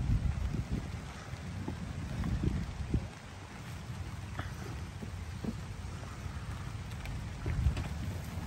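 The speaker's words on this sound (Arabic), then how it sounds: "الدنيا مطر" Rain falls on a Norwegian apple orchard near Stryn, where workers pick apples. It makes a continuous broadband patter with occasional louder thumps and rumbles, steady and moderately loud, with no speech.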